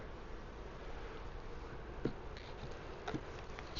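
Steady, close humming of a mass of honey bees at a Wisconsin hive in July during hive inspection, continuous and fairly loud with a couple of brief sharper buzzes.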